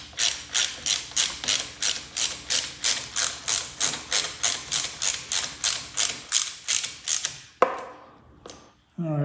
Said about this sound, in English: Stick the bolt in. Tighten her up. It's a T40 Torx.